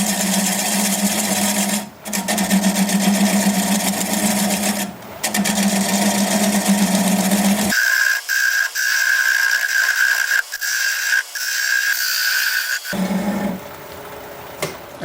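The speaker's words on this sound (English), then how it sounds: "I'm going to grab a 3/8 inch bowl gouge and commence to removing that tenon." A wood lathe spins a buckeye bowl at around 480 rpm while a 3/8 inch bowl gouge removes the tenon. A loud, steady mechanical drone with a rhythmic whirr is broken by several brief pauses.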